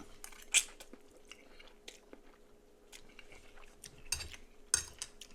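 Close bites and wet chewing of spaghetti mixed with chocolate syrup, with a few sharp cutlery clicks against a dish and soft squishy mouth sounds spaced irregularly.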